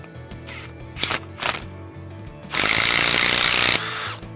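A power tool whirs loudly for about a second as it tightens a Sicame TTD-series insulation piercing connector onto a tap wire during a field install, following a few lighter clicks and handling knocks.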